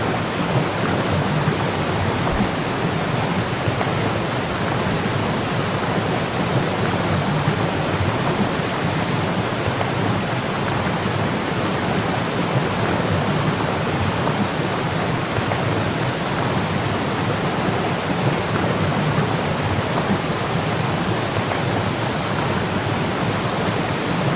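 A waterfall in the video game Syberia: The World Before roars as a constant, dense rush of spray and falling water, loud and unbroken throughout with no other sounds.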